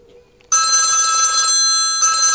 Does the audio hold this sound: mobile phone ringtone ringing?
yes